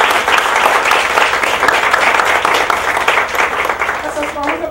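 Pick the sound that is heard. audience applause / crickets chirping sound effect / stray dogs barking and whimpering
audience applause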